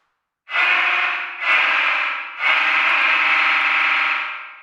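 An FM synthesizer with reverb added, sounding three sustained bright, buzzy notes in a row, each swelling in, then a smooth reverberant tail fading out at the end; loud and alone.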